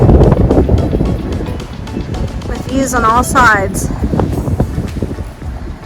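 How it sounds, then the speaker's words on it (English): Heavy wind buffets the microphone on a ridge of the Coosa Backcountry Trail with a loud, low roar throughout, while someone speaks briefly in the middle. "The wind's blowing hard"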